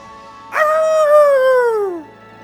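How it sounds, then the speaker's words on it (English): A wolf's victory howl in the video game Ōkami, a single sustained, wavering cry that rises sharply, holds, then slowly falls away over about a second and a half, loud and close over a low game background. "Now do one of those victory howls to wake up the Emperor."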